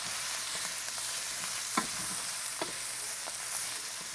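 Spoon scraping and stirring bolognese sauce in a frying pan, with steady sizzling underneath and several distinct scrapes against the pan, close and moderately loud, no talking.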